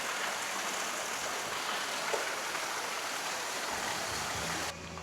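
Small waterfall stream at Nydri, running low on water, gives a steady broadband rush of flowing water close by, unbroken for nearly five seconds before shifting slightly at the end; no voices.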